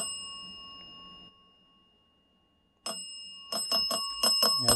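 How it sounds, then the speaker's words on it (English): A small electronic bell on a ghost-hunting device rings in rapid repeated bursts after a silent pause, loud and close. "Making the bell go crazy."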